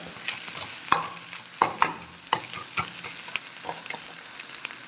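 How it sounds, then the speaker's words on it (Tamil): Vegetables sautéing in a pan for Tamil-style chicken fried rice, with steady soft sizzling broken by sharp scraping stirs of a spatula, close and clear, no talking. "காயெல்லாம் கொஞ்சம் நல்லா வதங்கட்டும்"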